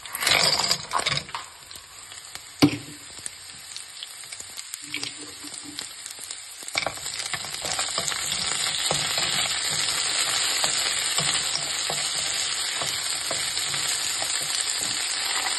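Frozen broccoli, carrot and cauliflower hit a hot frying pan, giving a steady close sizzle that builds and holds, with a few clinks from stirring near the start.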